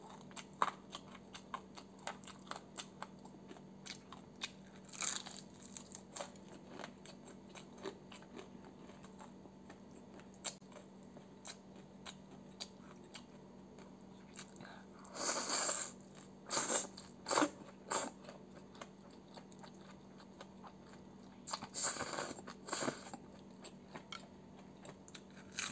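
Crisp sausage eaten with spicy kimchi ramen gives sharp, close crunching bites, a scattered series of brief crackles with louder clustered bursts midway and near the end, over quiet background.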